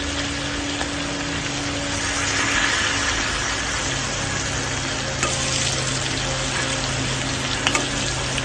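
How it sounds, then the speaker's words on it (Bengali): Spice masala with turmeric frying in a pan gives a constant, dense sizzle with occasional stirring scrapes, steady and fairly close. "এবারে হলুদ দিয়ে দিয়েছি, হলুদ দিয়ে আরেকটু ভেজে নেবো"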